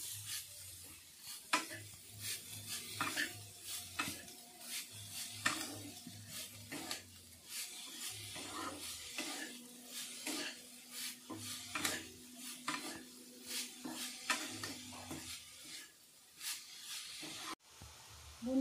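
Grated coconut filling with sugar being stirred continuously in a pan, repeated scraping and clinking strokes of a spoon against metal over a soft sizzle, close and rhythmic with no voices.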